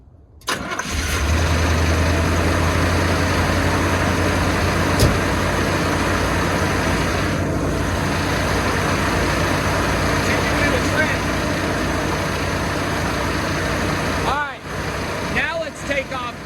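A Chevy G30 RV engine starts and settles into a steady, fast idle with a constant drone, close by, with a few voices and shuffling near the end.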